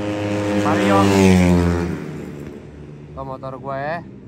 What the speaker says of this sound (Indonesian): itu motor gua tuh